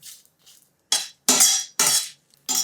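Metal tongs lifting fried bay leaves out of hot oil: a handful of short, bright clinks and scrapes, spaced unevenly and close by, with quiet gaps between them and no talking.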